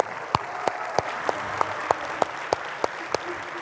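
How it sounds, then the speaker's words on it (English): An audience claps as a speaker walks out at a champions' night event, a steady wash of applause with sharp, evenly spaced claps standing out on top. "give me a huge round of applause, hoop and holler for David Pollack as he comes out"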